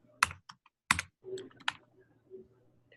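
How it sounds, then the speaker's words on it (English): Sporadic keystrokes on a sticky computer keyboard, a few sharp separate clacks with gaps between them, followed by a faint low murmur of voices on an online call. "know you have a sticky keyboard."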